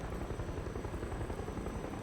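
An aircraft, rotor-like and faint, drones steadily overhead in a continuous low pulsing rumble with no voices.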